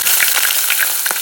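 Shallots sizzle loudly in hot oil with mustard seeds, crackling and popping close up in a brief, dense burst of spluttering.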